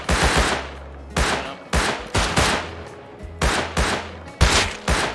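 Gunfire in the video game Rust: repeated loud bursts of rapid shots in short clusters, each followed by a booming low tail, about eight bursts across a few seconds, close and dominant with no talking.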